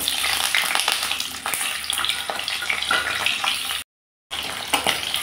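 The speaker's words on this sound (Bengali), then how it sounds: "এখন গরম তেলে ইলিশ মাছের মাথাটা ভেজে নিলাম" A hilsa fish head fries in hot mustard oil in a kadai, giving a loud, continuous hiss and crackle with brief scraping, cut off by one short silent gap.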